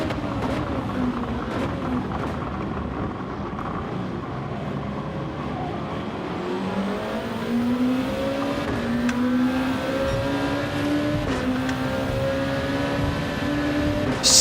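A Mercedes CLK race car in Gran Turismo 7 keeps up a continuous engine roar that climbs steadily in pitch as it accelerates, with no gaps or pauses.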